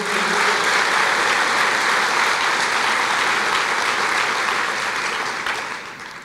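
A church congregation applauds during a worship service, a sustained full roar of clapping from many hands, loud and even, tapering off in the last second.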